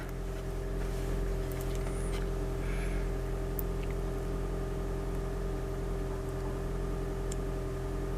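A Toyota Prius engine idles steadily in maintenance mode, a low, even hum with a faint whine, unchanging throughout and fairly quiet.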